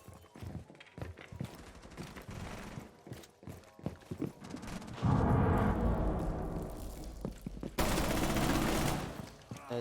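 Gunfire from the Alba weapon in Rainbow Six Siege, with bursts of sharp shots and clattering mechanical sounds, then a dense sustained stretch of loud firing near the end.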